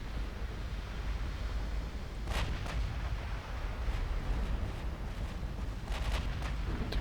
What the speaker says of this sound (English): Took some 17-inch hits. Did your A and B turret blow up?